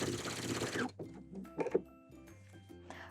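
A sewing machine stitches along a pants waistband during an alteration, running in a steady rapid whir for under a second, then stopping for quieter handling sounds and short bursts of fabric adjustment.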